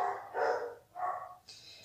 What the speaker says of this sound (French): Et maintenant, les chiens aboient